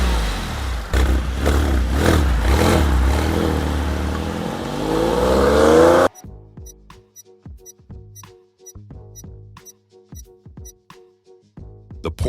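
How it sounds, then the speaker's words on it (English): A Porsche 911 engine revs loudly and rises in pitch for several seconds, then cuts off abruptly and gives way to a quieter, sparse musical passage. "Which car makes this distinctive engine sound?"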